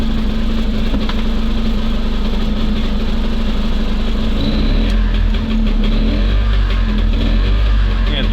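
An SMZ invalid carriage's small engine runs after its first start following long disuse, a close, loud, uneven idle with rough revving surges and a rising low rumble toward the end; a voice speaks briefly over it.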